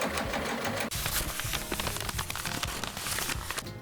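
A sewing machine stitches a garment seam with a dense, rapid mechanical whir and needle chatter, running close and steady with a brief hitch near the start, and no one speaking.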